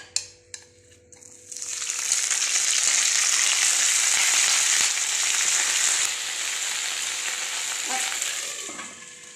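Dried red chillies frying in hot oil, a loud, steady sizzle that bursts in after a second of quiet with a few light clinks, then holds a dense crackling hiss to the end with no talk.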